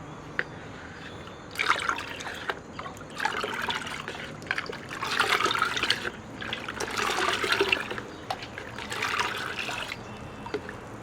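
Coloured water being mixed for a Holi water gun, heard as swirling, trickling liquid in bursts of sloshing and dribbling over several seconds, fairly close with no talking.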